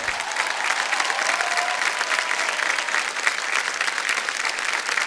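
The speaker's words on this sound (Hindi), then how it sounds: "तालियां बज जाएं इनके लिए" A studio audience applauds on the Kaun Banega Crorepati Season 13 quiz show with steady, dense clapping that holds at an even level for the whole stretch, with no talking over it.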